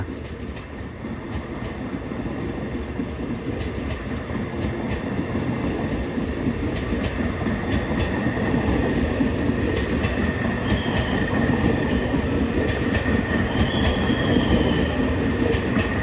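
A diesel express train rumbles past a station in Thailand, its engine drone and wheel noise building slightly louder over the whole stretch, with faint clicks and squeals.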